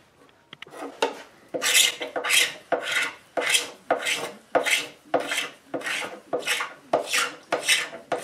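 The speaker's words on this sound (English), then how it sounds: "Endless binding scraping now." A tool scrapes the new binding on a restored Gretsch Van Eps guitar fretboard, about a dozen steady, rhythmic rasping strokes heard close up and alone.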